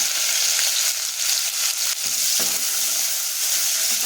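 Garlic and onion fry in hot oil with a loud, steady, close-up sizzle that stays bright and continuous, with a brief stir or clink partway through and no talking.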